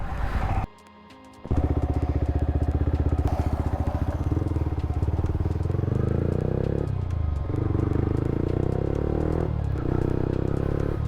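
Exhaust of a Royal Enfield Himalayan motorcycle while riding, a loud, deep, steady single-cylinder thump that cuts out briefly and then returns, pulsing evenly as the engine runs at speed.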